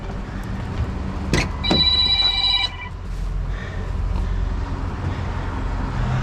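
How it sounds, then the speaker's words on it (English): A telephone rings in a short electronic burst, several tones stacked together, over a steady low rumble of a nearby truck or traffic at a scrap-hauling stop. "You always get phone calls. Always, as soon as I start recording."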